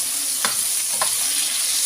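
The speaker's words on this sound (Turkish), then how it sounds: "Biber kızardılar." Peppers fry in a pan with a steady bright sizzle while being stirred, two short scraping strokes standing out against the continuous crackle.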